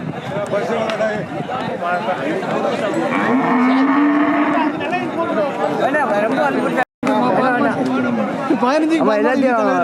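Loud, drawn-out cattle moos ring out repeatedly amid a lively crowd of people chattering and calling nearby at the Pavoorchatram cattle market in Tamil Nadu.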